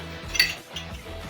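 Plates and dishes, including a glass salad dish, being put away during home cleaning, with clinks and knocks of crockery and cutlery around a sharper clink near the start, close and moderately quiet, with no talk.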